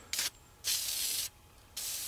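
Filter oil sprayed onto an air filter during a carburetor rejet job, heard as three close, loud spray bursts of hiss with brief gaps between them.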